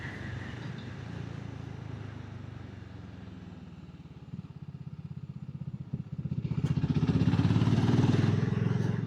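A BSA Goldstar 650 motorcycle engine hums steadily while riding at about 3,000 revs at 50 miles an hour, then revs up and grows louder toward the end, with wind rushing past.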